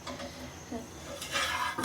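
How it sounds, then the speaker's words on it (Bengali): A roti fries in a pan with soft sizzling and light scraping and clinking of a utensil against the pan. A brief brighter burst of sizzle comes near the end. "গাইস আজকে আমি ভাজবো রুটি"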